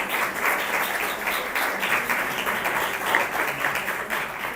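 An audience at a book presentation on Marxism and women's oppression breaks into sustained, even applause, moderately loud clapping filling the hall without pause.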